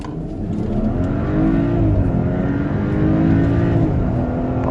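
A sleeper BMW X3 accelerates hard off the line in a drag race. A loud, sustained engine drone rises and steps through gear changes, with no talking.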